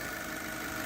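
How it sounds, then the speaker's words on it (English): A car engine idling while warming up, heard from the open engine bay as a steady, even hum with no breaks. "We'll let it sit here and idle for a while, let it get fully up to temperature"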